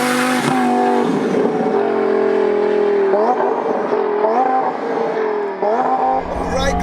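Twin-turbo 1200bhp Lamborghini Huracan accelerating hard, a loud, close engine roar climbing through rising pitch sweeps with gear shifts, sustained for about seven seconds.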